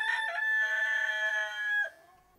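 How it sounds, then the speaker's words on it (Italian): A rooster crows once on a mountain, a loud, close, drawn-out cock-a-doodle-doo with a steady high tone that breaks off sharply near the end, followed by quiet. "Carnigol, the rooster on Samuel's mountain, and he's going to prophesy for us."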